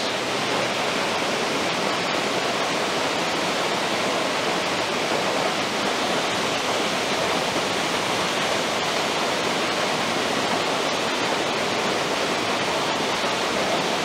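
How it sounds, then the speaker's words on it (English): A waterfall rushes steadily down over rocks, a dense, unbroken roar that stays constant and fairly loud throughout, with no voices. "That's a lovely waterfall coming down."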